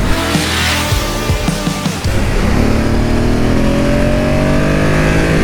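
A 2022 BMW F850GSA motorcycle accelerating hard through its short gears: a loud, close engine note climbs steadily in pitch, with a quick gear change partway before it builds again.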